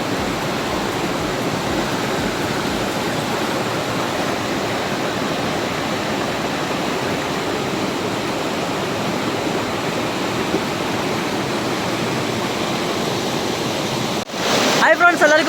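Narangathod waterfall in Kerala roars as a constant, even rush of falling water that fills the scene for a long stretch, then briefly shifts near the end, with no voices heard.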